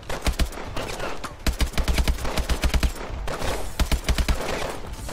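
Rapid automatic gunfire in Call of Duty rattles in repeated bursts of sharp shots, loud and close, with short pauses between volleys.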